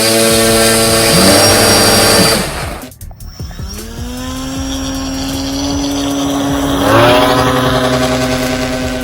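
Two electric motors on a large 8 ft RC airplane whine loudly and steadily, briefly cut out, then spin back up with rising pitch, close by.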